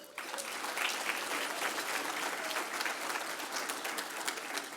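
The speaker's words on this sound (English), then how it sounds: "So one last round of applause just for all the sponsors that we have here today." Steady applause from an audience at a breakfast fundraiser, a dense, even wash of clapping that carries on through the whole stretch without a break or voices rising above it.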